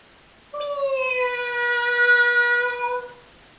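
A human voice imitates cats singing on a garden wall at night with one long, drawn-out meowing wail that rises and holds, clear and close against a quiet background.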